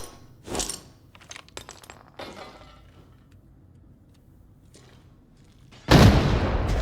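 A grenade thrown in the shooter game Armory: brief cracks, clicks and shots first, then a loud, close burst of explosion near the end with a dense roar that holds to the finish.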